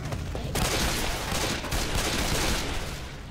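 Dense, loud gunfire in Left 4 Dead 2 rattles continuously, overlapping bursts and rapid shots filling the whole moment without pause.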